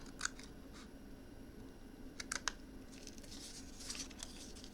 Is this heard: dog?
no